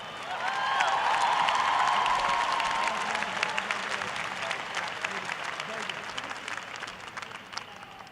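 Commencement crowd applauding an honorary degree recipient, a loud, dense roar of clapping with some cheering that swells early and stays sustained, with a brief whistle-like tone and faint voices underneath.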